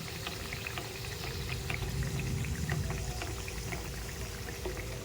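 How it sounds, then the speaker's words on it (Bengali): Hot oil in a wok sizzles and crackles steadily as mughlai paratha fries over medium heat, a dense continuous frying hiss with scattered small pops throughout. "এবারে আমার কড়াইতে তেল গরম হয়ে গেছে মোগলাইগুলোকে হালকা আছে ভেজে নিচ্ছি"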